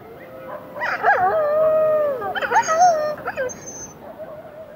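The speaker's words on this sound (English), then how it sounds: "the wolf doesn't bark. It grunts, growls, and above all, howls." A wolf howls in the wild, a long sliding tonal call that rises and falls, broken by shorter yelping whimpers and a second howl toward the end, fairly close and clear over a faint noisy background.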